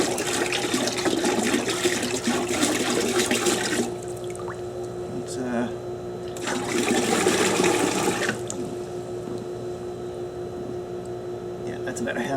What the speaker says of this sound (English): take the chlorine. And just pour about maybe half a gallon in here